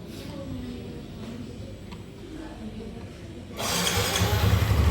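A Yamaha Soul GT scooter engine cranks and fires up, steady low background rumble then an abrupt jump into a loud, close idling motor for the final second.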